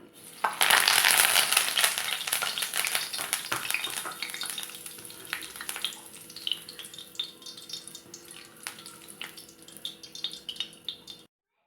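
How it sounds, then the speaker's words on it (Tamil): Curry leaves dropped into a hot pan of roasted peanuts with the stove just turned off, a loud burst of crackling sizzle that slowly settles into softer frying and stirring scrapes. "அந்த ஹீட்லேயே கருவேப்பிலை சேர்த்துக்கிறோம்"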